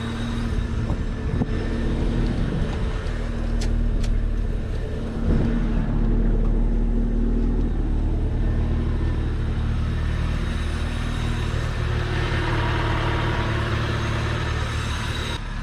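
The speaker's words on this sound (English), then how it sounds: "In the engine bay, the engine itself sounds pretty good." An old car abandoned for years and bought for restoration idles steadily with its engine exposed, a continuous low rumble holding even and close throughout with no talk.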